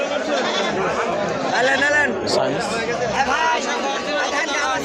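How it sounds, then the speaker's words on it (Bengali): Goats bleat repeatedly amid a noisy, crowded livestock market hum at Tebaria market in Natore, with people chattering in the background throughout. "ছাগল প্রচুর আছে"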